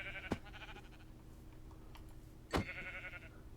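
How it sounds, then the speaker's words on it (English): Two sheep bleats from Minecraft, each a short wavering cry with a sharp onset, the first near the start and a longer one later, over a steady low game background hum. "Gotta kill them sheep with the flint and steel."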